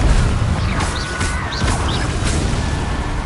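Repeated Confringo blasting-spell explosions in Hogwarts Legacy, a series of booming crashes and whooshes roughly every half second over a dense, continuous game-combat roar.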